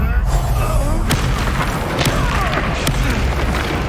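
A Bombarda spell explosion booms amid Hogwarts Legacy combat, with several sharp impacts and crackling bursts over a heavy rumbling bed, loud and close.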